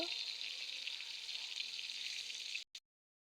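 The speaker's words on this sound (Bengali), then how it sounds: "বেগুন ভাজা হচ্ছে" Eggplant slices fry in a pan with a steady, close sizzle lasting a few seconds before cutting off abruptly.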